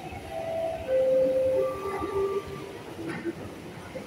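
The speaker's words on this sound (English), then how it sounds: "The train is about to leave." MTR East Rail line train departing Kowloon Tong station, a steady rumbling roar with tonal whines rising from the motors, heard close on the platform over continuous noise.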